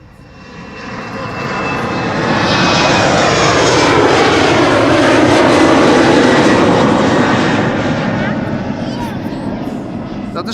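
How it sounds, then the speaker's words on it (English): An Embraer jet takes off from Amsterdam's Polderbaan runway, a loud broadband engine roar that swells over a few seconds, holds steady and then slowly fades as it departs. "the now departing Embraer"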